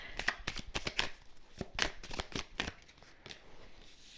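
A tarot card deck is shuffled by hand in quick, crisp riffling bursts, a series of close, sharp papery flicks that grow sparser and softer toward the end, with no talking.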